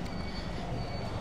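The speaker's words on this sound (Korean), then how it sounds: "지하철이 왜 이렇게 느리게 달려?" A Boston subway train runs along the track with a dense, steady rumble of wheels and a thin high squeal above it, loud and close from inside or beside the car.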